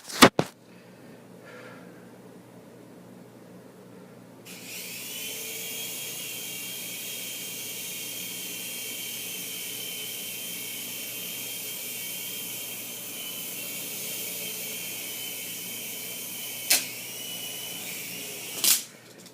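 A Griffin Technology Helo TC toy helicopter starts with a faint click, then gives a thin, steady high-pitched motor whine for about fifteen seconds. A couple of brief clicks follow near the end, all at low volume.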